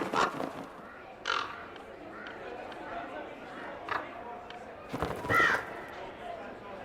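Crows caw in the Dragon Age: Inquisition game world, a few short harsh calls spaced across a quiet ambient bed, with a louder burst near the end.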